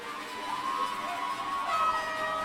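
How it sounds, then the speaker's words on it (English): Football crowd at a high school playoff game cheering on the home defense, a steady sustained roar of many voices with a few whistles and shouts rising above it. "Crowd getting behind the defense now."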